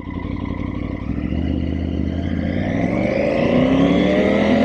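Triumph Tiger 850 Sport's 888cc inline three-cylinder engine running steadily, a smooth, continuous close-up hum that rises slightly in pitch and loudness toward the end.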